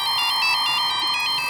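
A mobile phone ringtone plays loud and steady, a bright repeating electronic melody pulsing in quick regular beats with no talking over it.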